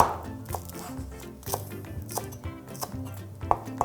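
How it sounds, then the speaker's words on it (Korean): Knife chopping green onions on a cutting board, a series of quiet, irregular taps up close, fairly soft with no talk over it. "얇은 거는 쪽파 같은 경우는 송송 썰어서 위에다 싹 올리는 거예요"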